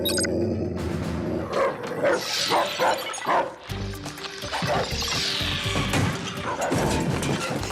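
Cartoon robot dogs bark and yip in a noisy animated scene, with loud repeated barks mixed with crashing and clattering effects and splashy liquid sounds, fairly close and busy throughout.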